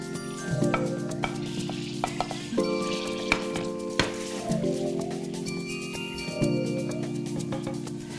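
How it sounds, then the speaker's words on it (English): Shallots frying in foaming melted butter in a pan, with a steady sizzle, repeated stirring scrapes and light clinks of a utensil against the pan, close up with no talking. "once the foam subsides, I'm gonna add in my shallots"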